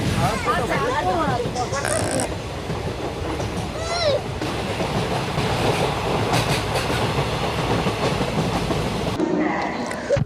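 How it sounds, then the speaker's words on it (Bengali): A local passenger train in Bengal rolls along with a steady rumbling clatter and rhythmic clicks from inside the carriage, while a child cries and people talk over it. "চলো এবার আমার ট্রেনের ভিতরে চলো, লোকাল ট্রেনে"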